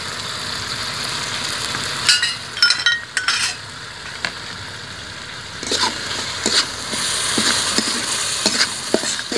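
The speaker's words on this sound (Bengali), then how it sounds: "এটা আমি 2-3 মিনিট কষাবো।" Ground spices (chili, coriander, turmeric) sautéing in a pan for Bengali tilapia fish curry, a steady sizzle with scraping stir strokes and brief clattering bursts of utensil against pan, close and fairly loud.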